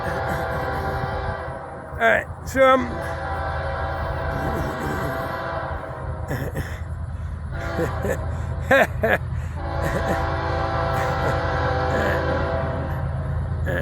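An FEC freight train rolls through a road crossing with a steady low rumble and rail noise throughout, and a couple of brief horn-like tonal bursts stand out early and midway. Someone speaks briefly near the start.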